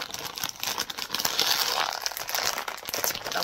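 Crinkly plastic wrapper of a wafer bites snack being handled and opened, a continuous close rustling and crackling without speech.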